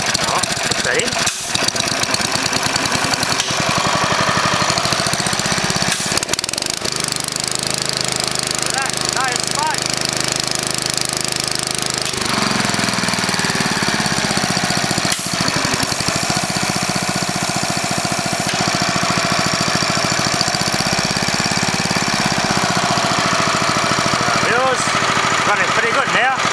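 A Honda GX140 small engine runs steadily after a carburetor and idle service, a continuous mid-pitched motor drone throughout with a person talking over it.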